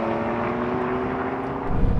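BMW M2 CS, Mercedes-AMG A45 S or Audi RS3 accelerating flat out in a drag race, a loud steady engine roar with a sustained tone that swells louder near the end.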